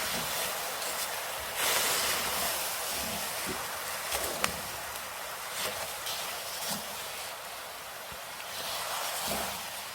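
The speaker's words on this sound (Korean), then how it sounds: "이제 약초수를 넣습니다." Herbal water poured into salt roasting in a pan, a loud, sustained broadband hiss and steam rush that lasts the whole stretch, with a few soft knocks underneath.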